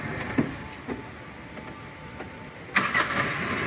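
A carbureted Daihatsu Feroza engine is cranked; a couple of short starter bursts are followed by the engine catching and running near and loud at the end.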